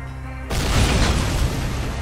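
Explosives detonate against trucks in the video game S.T.A.L.K.E.R., one loud, sustained blast that erupts suddenly after a quiet moment and rumbles on heavily.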